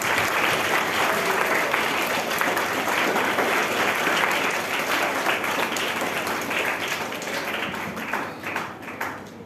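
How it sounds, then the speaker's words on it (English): Sustained applause from an audience at a Moon Day celebration event, steady dense clapping filling the whole span and tapering slightly near the end. "Please welcome him with a round of applause."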